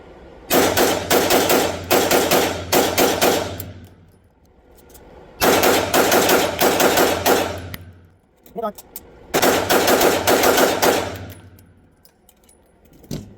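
A Springfield Emissary pistol fired with a Glock PMag magazine, three loud close bursts of rapid successive shots separated by pauses, with brief metallic clinks between strings.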